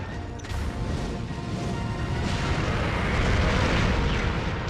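Bombs explode in the video game Monster Hunter Tri, a sustained rumbling blast with crashing debris that swells and stays loud for several seconds, with no talking.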